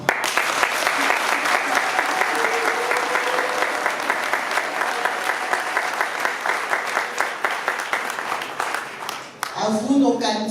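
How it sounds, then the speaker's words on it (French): Sustained loud applause from a large audience at a political rally, dense clapping that continues steadily before easing slightly and swelling again at the end. "Je vous prie d'acclamer frénétiquement nos candidats à tous les échelons, de partout où ils se trouvent."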